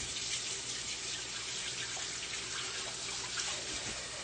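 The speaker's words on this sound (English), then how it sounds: "I'll wash my fingers again." Steady running tap water splashing over fingers at a kitchen sink while making vegan chocolate chip pancakes, a continuous close rush with no talk.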